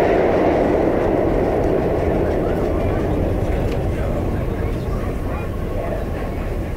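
An old New York City subway A train with cars over 40 years old rumbles along steadily. A dense, continuous roar of wheels and rails stays loud throughout, with faint clicks from the track joints and voices speaking quietly underneath.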